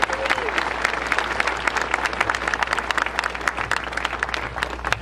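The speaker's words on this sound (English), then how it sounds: "Give yourselves a round of applause." A crowd claps and cheers at the opening ceremony of the Fury 325 roller coaster at Carowinds, dense, even applause with sharp individual claps close by.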